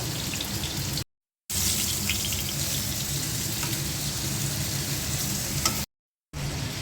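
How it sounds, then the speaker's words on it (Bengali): Fried fish goes into a simmering curry, giving a steady, close sizzle and bubbling with faint stirring clatter, interrupted by two short silent gaps. "তরকারিতে দেওয়ার জন্য মাছটা ভাজা হয়ে গেছে এখন আমি তরকারির মধ্যে দিয়ে দিব"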